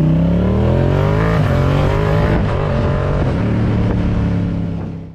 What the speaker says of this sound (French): Et oui, c'est bien le bruit d'un shifter